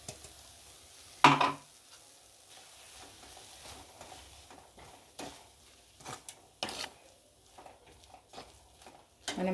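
Chilli powder is stirred into cooked gongura leaves, giving soft scraping and stirring with a few sharp clinks and knocks against the pan, fairly quiet and intermittent.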